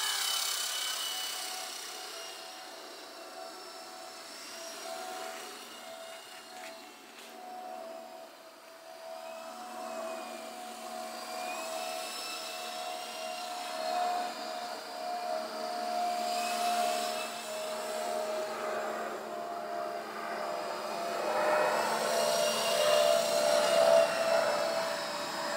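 An E-flite Blade SR120 RC helicopter flies outdoors on a cloudy day in 4 to 5 mph winds, giving a steady, continuous high motor and rotor whine that swells and fades slightly as it moves, with no talking.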